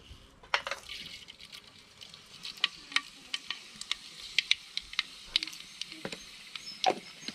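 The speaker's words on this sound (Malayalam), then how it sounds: "നമുക്ക് ഇതിലേക്ക് കടുക് ഇടാം കേട്ടോ." Mustard seeds pop and crackle in hot oil for a tempering, making irregular sharp pops with no one talking.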